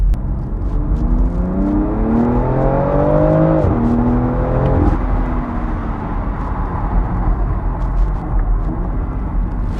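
A BMW X3 M F97 SUV sweeps around a corner, its engine note climbing and whining under acceleration, then dropping suddenly into a loud, steady road rumble.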